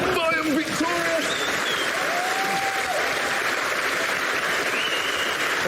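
A studio audience applauds loudly and continuously throughout, with a dense, even wash of clapping and some brief vocal sounds near the start.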